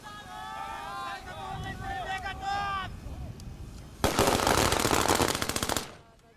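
A voice calls out, then a single sharp volley of rifle fire in a memorial salute rings out loudly with rattling echoes before fading.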